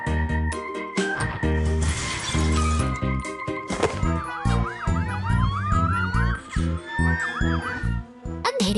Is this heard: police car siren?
yes